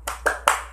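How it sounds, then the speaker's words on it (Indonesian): Three sharp hand claps in a rhythmic spirit-clap pattern, led by a teacher in a classroom lesson; each clap is close and crisp, evenly spaced and growing slightly louder. "Gerakan tepuk semangat."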